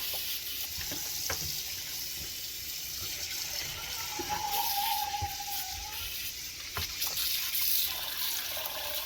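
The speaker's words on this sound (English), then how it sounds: "I always use vinegar to wash my meat." Meat is washed in a kitchen sink while tap water runs in a steady, gentle stream with occasional splashes and clinks, heard fairly quietly.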